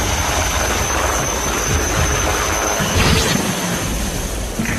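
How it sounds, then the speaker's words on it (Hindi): HAL Dhruv Mark 3 helicopter with an advanced Shakti engine, a loud, steady turbine roar and whine with a constant high tone, close and continuous, no speech over it. "हिंदुस्तान एरोनॉटिक्स लिमिटेड ने जो ध्रुव मार्क 3 बनाया है उसमें एक एडवांस्ड शक्ति इंजन है।"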